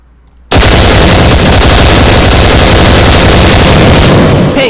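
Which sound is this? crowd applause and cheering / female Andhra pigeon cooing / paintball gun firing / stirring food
paintball gun firing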